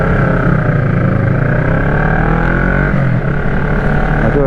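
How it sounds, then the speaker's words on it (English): Loud, steady engine drone of a noisy motorbike close behind on a London street, continuous and unchanging through the whole short stretch with no talking. "I do have a noisy bike behind me"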